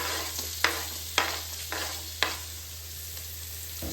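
Onion and green chilli frying in butter and oil in a pan, a steady close sizzle broken by a few sharp spoon clacks against the pan as it is stirred.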